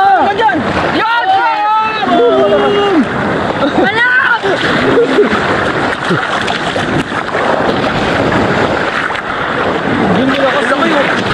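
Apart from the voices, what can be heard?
strong sea waves at a beach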